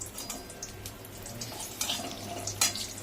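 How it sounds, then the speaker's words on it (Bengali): Oil trickles and splashes faintly into a wok being readied for a drumstick curry, a soft, steady pour with a few brighter spatters near the end. "এবার কড়াইতে তেল দেবে।"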